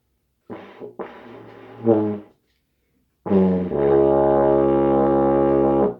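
A euphonium mouthpiece buzz played too loosely: a short flabby, sputtering burst, a pause, then a long low blatting tone with a fuzzy, foghorn-like quality.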